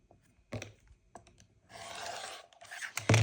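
A rotary cutter slices a fabric square in half for a pinwheel quilt block, giving a sustained close rasping scrape of about a second, with a few sharp clicks and bumps before it and a louder thump at the end.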